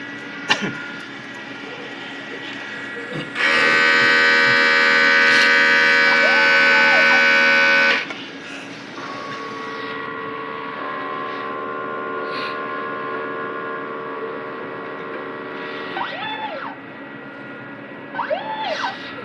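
An inkjet printer running a head cleaning cycle, with a loud droning whine for several seconds, then quieter motor hums and short rising-falling mechanical tones.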